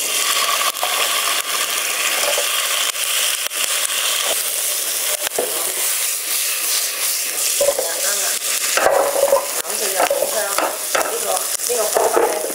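Tofu stir-frying in a wok with straw mushrooms and vegetables, a continuous close sizzle with scraping, clattering stir strokes that grow busier toward the end, with no talking over it.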